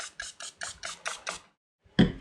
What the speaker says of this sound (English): So I'll spray the top.